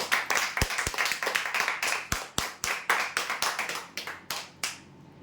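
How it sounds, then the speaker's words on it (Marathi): Audience clapping at a prize draw event: a small crowd claps in brisk, uneven bursts with sharp individual claps, fairly close and tapering off toward the end. "जोरदार टाळ्या होत्या यासाठी"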